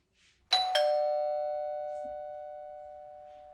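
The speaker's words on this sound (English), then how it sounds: "my doorbell's going off" A doorbell rings at 3 a.m. with two quick chimes in succession, followed by a long clear ringing decay in an otherwise quiet room.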